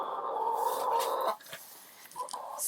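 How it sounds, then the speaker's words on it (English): A rooster gives a harsh, strained call lasting about a second, followed by softer scattered clucks and rustling nearby. "He's our main rooster."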